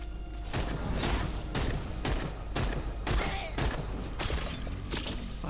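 Rapid, heavy bursts of shotgun blasts from a pump-action gun in the video game Wayfinder, about six close, loud shots spaced roughly every second over a dense layer of game effects and debris clatter.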